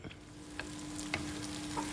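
Eggs and bacon frying in a pan, with a faint steady sizzle and a few light scrapes and taps of stirring, quiet and close.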